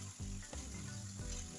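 Fried chicken pieces and fried potatoes dropped into a pan of sweet soy sauce with fragrant spices, giving a loud, steady sizzle with a few bursts of stirring and bubbling throughout.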